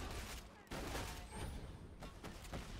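Bandit shotgun blasts in the Borderlands 2 video game, a few heavy booming shots spaced out amid a busy, rumbling combat din, fairly quiet overall.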